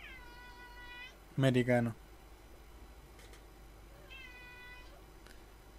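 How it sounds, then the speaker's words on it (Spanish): A cat meows twice, clear harmonic mews separated by a few seconds, with a short burst of louder speech between them over faint room noise. "¿Escuchan cómo maulla un gato?"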